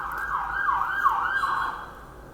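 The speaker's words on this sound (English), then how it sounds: "That was an ambulance." An ambulance siren wails in a steady rising-and-falling cycle, fairly loud and continuous, over low traffic rumble with no talking.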